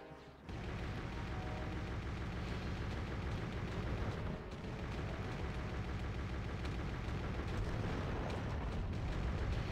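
Missiles explode in the video game Turok Evolution, a loud, continuous roar of blasts after a brief quiet start, with a short dip midway before the booming rumble resumes.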